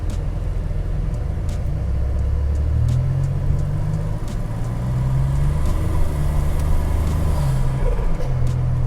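A 1987 Buick Grand National with the lightweight package drives a short loop around the block, its engine a low steady rumble that rises and settles with speed, heard from inside the car.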